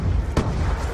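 A frag grenade blast in Black Ops 2 team deathmatch: one sharp broadband boom, loud and close, over dense constant game noise.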